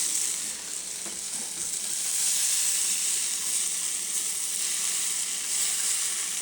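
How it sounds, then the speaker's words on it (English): Meat sizzles and fries loudly as it goes into a hot pot, a dense, continuous hiss that carries on at an even level without any talk. "we are going to now put the meat in"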